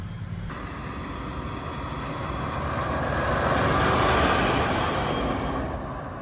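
A 6x6 off-road truck runs at full throttle off the road, giving a loud, steady, broadband engine and drivetrain roar that swells toward the middle and eases slightly at the end, with no talk.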